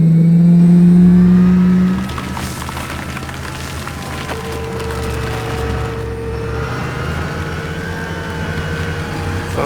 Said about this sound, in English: It's got a turbine engine.